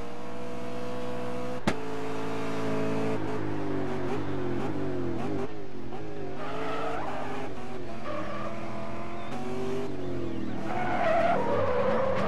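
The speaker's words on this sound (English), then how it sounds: "Super 6 spinning a little bit out of control with his car" Touring race car spinning out of control in a race, tires squealing and skidding in long wavering screeches over a revving engine, loud and close, with no talk.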